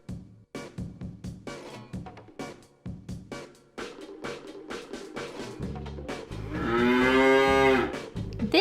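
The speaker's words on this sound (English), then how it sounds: "This is a cow." A cow moos once, long and loud, at the end, after a run of rhythmic clopping or clacking beats.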